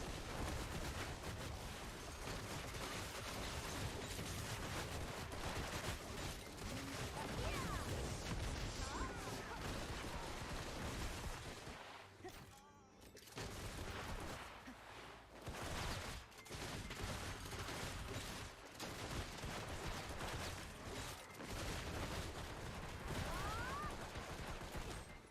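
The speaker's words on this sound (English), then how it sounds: "The mortar." Mortar fire in a video game: a dense, continuous barrage of booming blasts and crackling shots fills the scene, dipping into a brief lull midway before the heavy bombardment resumes.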